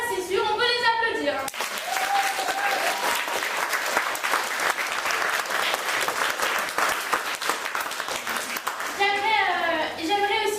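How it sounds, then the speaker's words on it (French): Sustained audience applause fills a theatre hall at an awards ceremony during an international dance course event, dense and steady for several seconds, with a speaker's voice heard briefly before and after it. "on peut les applaudir"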